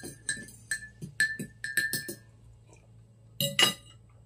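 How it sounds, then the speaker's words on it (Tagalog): Coffee cups clink together in a toast, several bright ringing taps in quick succession followed by a pause and one more clink, close and clear with no talking. "Coffee, cheers!"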